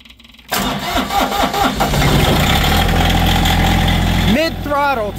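A diesel tractor engine cold-starts after its glow plugs have warmed, cranking briefly before catching and settling into a loud, steady idle close by, with a voice speaking over the engine near the end.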